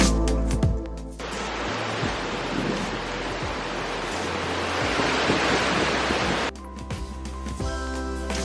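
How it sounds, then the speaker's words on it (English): Strong, blustery wind roars across the microphone in a steady broadband rush for several seconds, with softer gusty stretches at the start and end, out on a muddy walk. "it was so windy coming back into it"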